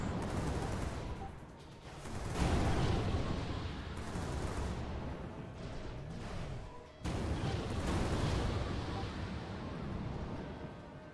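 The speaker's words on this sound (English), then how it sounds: "The rockets hit." Rockets hitting in the space combat game Pirate Galaxy, a dense, continuous barrage of booming impacts and gunfire-like bursts that stays loud throughout, with a few brief gaps between volleys.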